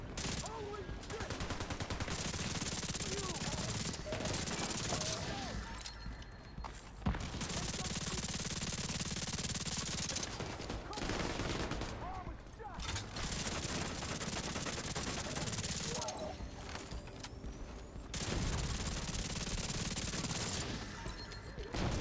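Rapid automatic gunfire from an Xbox shooter game crackles almost without a break across the whole stretch. A few short gaps cut into it, and players can be heard talking over the shooting now and then.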